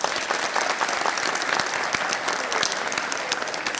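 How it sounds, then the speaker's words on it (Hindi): Audience applause at a televised debate programme: a dense, lively clatter of many hands clapping continuously, fairly close and even, with occasional sharper individual claps standing out. "तालियां इनके लिए।"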